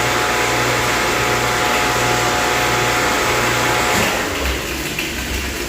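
A big vacuum tank pulls soap through a pipeline wash, a loud steady suction roar with a hum underneath, easing and thinning near the end.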